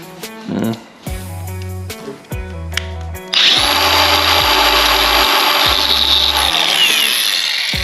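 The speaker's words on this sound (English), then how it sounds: "later on I can make a little mark with a grinder or something so I know" A grinder cuts a mark into a gas/oil tank during a custom chain tensioner build: a few short, stuttering tool bursts give way to a loud, continuous, close-up grinding whine that runs steadily to the end.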